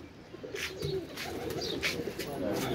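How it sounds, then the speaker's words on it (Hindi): Pigeons being released at a pigeon-flying tournament, cooing and fluttering nearby amid a busy outdoor murmur, with soft wingbeats and a few brief calls. "तो बाकी जी कबूतर निकालने लगे हैं"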